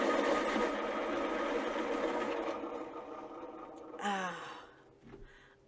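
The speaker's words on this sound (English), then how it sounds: "having an electric sharpener" An electric pencil sharpener grinds a colored pencil with a steady whirring buzz for a couple of seconds, then winds down, followed by a short sigh-like breath and quieter handling.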